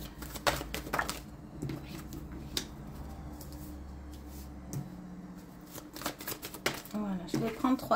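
A tarot or oracle deck is shuffled by hand for a card reading, a crisp riffling patter of cards close by, with someone talking over parts of it.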